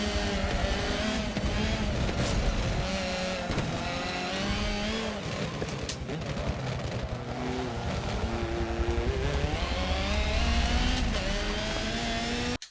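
Race car engine in Forza 7 on the Long Beach street circuit, a loud continuous roar with rising and falling revs through gear changes and brief tire squeal, no voices.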